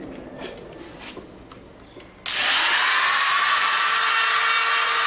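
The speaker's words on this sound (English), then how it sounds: "the next thing to grind is this portion, just to round it up." A power grinding tool bites into the wood of a bonsai trunk chop, rounding off a section; after a quieter stretch of faint handling noise, a loud, steady abrasive whine starts abruptly and runs continuously to the end.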